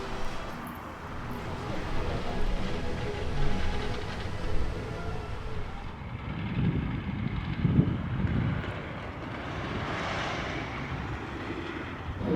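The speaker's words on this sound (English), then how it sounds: "Dispatching on Hala Madrid. I have the whole train to myself." Hala Madrid roller coaster train leaving the station at Real Madrid World in Dubai, a rumbling rush of wheels and wind that swells and fades, with loud gusts mid-ride.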